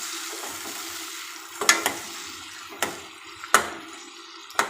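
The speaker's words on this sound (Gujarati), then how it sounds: "ટામેટાને ડુંગળી સાથે મિક્સ કરી લઈએ" Tomatoes and half-cooked onion are stirred in a pan under a low sizzle, with several sharp scraping and clanking strokes of a spoon against the metal at irregular intervals.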